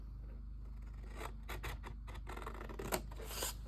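Scissors snip through paper up to a score line while making a 3D paper mailbox, a few quiet close crisp cuts and rustles over a low steady hum, no talk.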